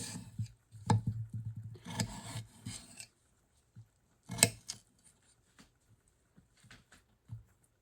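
Peeled potatoes being diced with a knife on a cutting board, giving bursts of scraping chops and rapid knife strokes followed by sparser, isolated cuts, close and moderately quiet.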